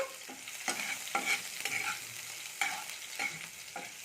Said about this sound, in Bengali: সেই কাঁচা লঙ্কাগুলোকে দিয়ে দিলাম এবার এটাকে আমি একটু ভেজে নেব